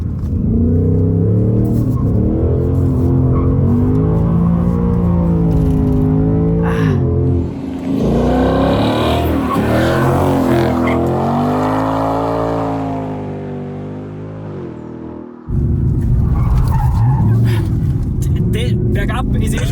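A Ford Mustang Dark Horse drifts with the engine loud and close, its revs rising and falling through long howling sweeps with a brief lift near the end, and strong tire noise mixed in.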